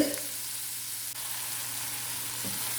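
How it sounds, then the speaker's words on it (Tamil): Carrots sauté in hot oil in a pan for carrot rice, giving a steady, close hiss of frying with a faint clink near the start and no voices. "கேரட் சேர்த்துட்டு நம்ம நல்லா வதக்கி விட்டுக்குவோம்"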